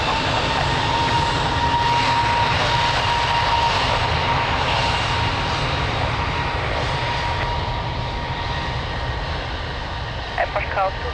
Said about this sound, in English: Airbus 321 departing